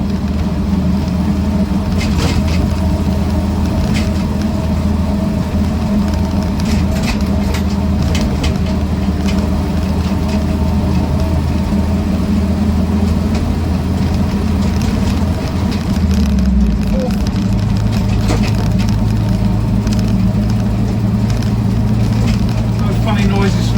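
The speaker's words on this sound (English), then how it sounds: "a little bit noisy on the road though, because they are quite an aggressive tread pattern" A Land Rover Series IIa 88-inch soft top rolls along a road on aggressive-tread tyres, giving a continuous loud drone of engine and tyre roar throughout, with a shift in pitch near the end.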